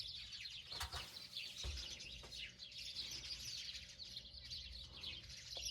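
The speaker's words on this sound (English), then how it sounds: "Y'all hear those birds?" Birds chirp and tweet steadily outdoors, bright high calls repeating over a quiet background hum, fairly faint and continuous.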